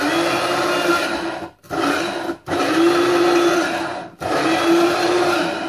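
Garlic cloves with salt grind in an electric grinder, a loud, close motor roar running in three bursts separated by brief pauses.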